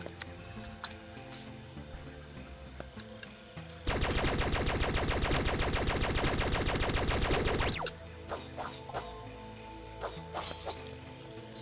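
Sustained rapid automatic gunfire from a gun in the 2D game Starbound, a dense continuous rattle lasting about four seconds, framed by sparse dripping and clicking game effects before and after.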